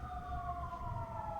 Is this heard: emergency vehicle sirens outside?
yes